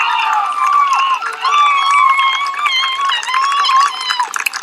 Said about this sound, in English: They'll be able to hear the cheer back at Sunridge Park after that